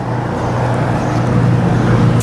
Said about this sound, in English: Don't know the blue car leaving too.